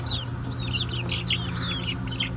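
Backyard coop chickens, including a blue-egg-laying hen, clucking and chirping in a steady run of short calls at close range over a low steady hum, with no talk.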